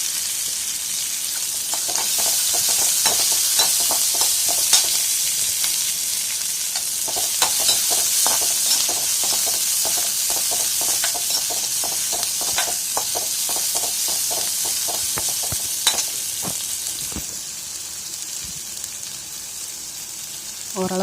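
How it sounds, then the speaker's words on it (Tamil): Cluster beans are fried with sautéed onions in a pan, making a loud, constant hissing sizzle broken by rapid, repeated scraping strokes of a spoon. "வெங்காயம் கொஞ்சம் நல்லா வதங்கினதுக்கப்புறம் இது கூட ஃபில்ட்ரு பண்ணி வச்சுருக்க கொத்தவரக்காயை சேர்த்துக்கலாம்."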